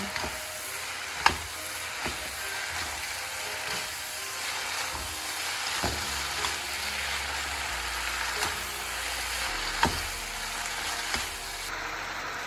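Chinese New Year stir-fry with sauce being tossed in a hot pan, a steady broadband sizzle with occasional sharp clinks and scrapes of the utensil against the wok, close and continuous with no talking.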